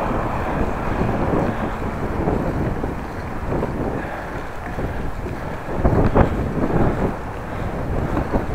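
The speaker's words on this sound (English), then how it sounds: "Oh, wind in the face." Strong wind roaring across the microphone of a bike rider pedalling through snow in Groningen, a steady broadband rush with a louder gust near the end and no talk.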